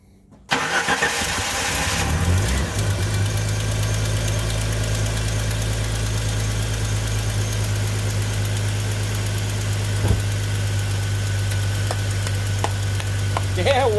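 A car engine cranks and catches, then settles into a steady, rumbling idle that continues, with a faint click partway through.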